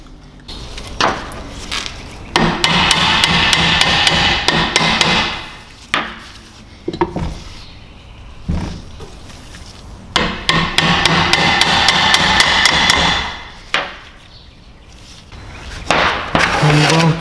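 Repeated hammer blows on a BMW E36 188 mm limited-slip differential axle cap during a rebuild, coming in two long bursts of rapid, loud metallic strikes with short pauses between them.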